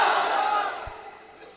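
A gathered religious congregation shouts a loud collective response to a Takbeer call during a sermon. The burst of voices is strongest at the start, then fades and trails off over about a second and a half.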